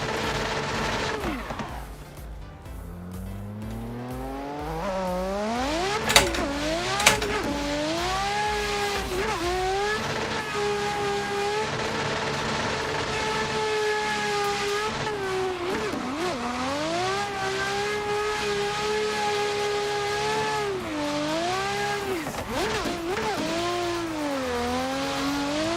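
Race car engine held at full throttle in a drifting video game, a loud continuous howl rising and dipping with shifts and tire squeal, alone without talk for the whole stretch.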